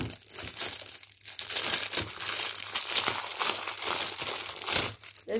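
Packaging being torn open from a square pop-it toy, close crackly crinkling of plastic wrap in continuous bursts with brief pauses.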